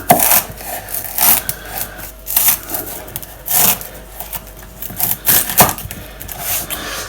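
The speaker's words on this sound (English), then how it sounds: "I'm getting the blade placed on the board and guillotining it down." A knife blade guillotines down through lemongrass onto a board, giving irregular crisp chops, some single and some in quick bunches, close and fairly loud with short pauses.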